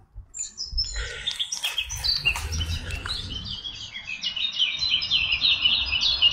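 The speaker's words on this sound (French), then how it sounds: "Merci pour ton chant, oiseau du cœur" A small bird sings outdoors, a run of bright chirps and trills building into a continuous song, fairly close and clear over a low rumbling background, with no one talking.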